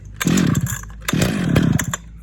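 A 50-year-old chainsaw, fully rebuilt with a new recoil rope, fires up and runs in two loud, close bursts of buzzing engine noise separated by a brief dip, with no talking.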